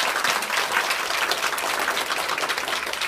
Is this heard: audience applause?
yes